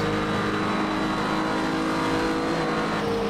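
Race car engine in Project CARS 2 roars steadily under load throughout, with layered harmonic whine and rising and falling revs as the car is driven hard through a corner; no talking.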